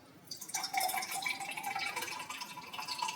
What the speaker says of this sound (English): We're gonna take the flute and we just gonna pour it up.